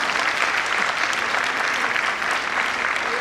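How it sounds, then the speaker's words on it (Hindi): Steady, dense applause from an audience at a children's school annual function, clapping loudly and evenly throughout with a faint murmur of voices beneath. "तो ताली कौन बजाएगा?"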